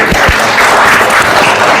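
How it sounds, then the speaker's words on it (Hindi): Audience at a government college's annual function in Chaubattakhal breaks into loud, sustained clapping, a dense continuous wash of applause with no speech over it. "एक बार जोरदार ताली बजाएं।"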